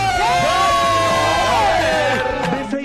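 Audience cheering loudly for an a cappella group, with bright whoops and shouts from a crowd over a brief burst, close and energetic.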